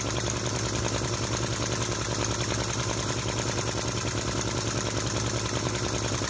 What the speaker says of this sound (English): I'm sure you'll agree that's a great V-twin sound.